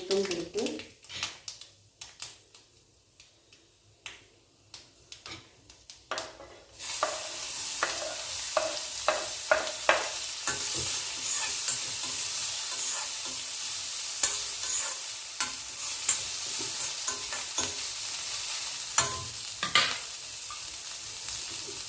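Onion, mustard seeds and urad dal frying in hot oil, with a dense steady sizzle and crackle and repeated sharp stirring scrapes; quieter clicks and stirring open the sequence before the loud sizzle takes over.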